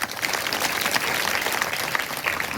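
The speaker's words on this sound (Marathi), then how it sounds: "वडिलांकरता एकदा टाळ्या वाजवा।" Listeners at a village kirtan clap in honour of a father, a continuous, even wash of many hands clapping at moderate distance that holds steady throughout.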